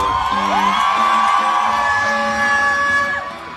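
A crowd in Davao, Philippines cheers and shouts loudly, with a rising whoop and sustained yells carrying over the noisy din.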